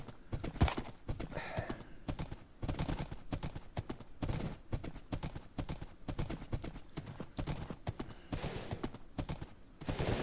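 Horse hooves in a video game, a fast, rhythmic clip-clop of galloping close by, steady across the whole stretch with muffled thumps and faint talk in the background.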